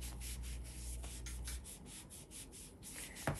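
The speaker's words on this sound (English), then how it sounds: "I'm wiping the front of her cheek because I saw a few scratches there." Someone wipes a reborn doll's painted cheek with a cloth soaked in nail polish remover, making close, steady rubbing strokes. A soft scraping rhythm continues the whole time, with no voices.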